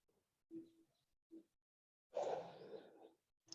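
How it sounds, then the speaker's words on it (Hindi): On a calm, cool, cloudy outdoor evening, a few soft, distant coo-like bird notes come in short, spaced bursts, followed by a longer, rougher rustling call, all very faint against near silence. "पक्षियों की आवाज तो है"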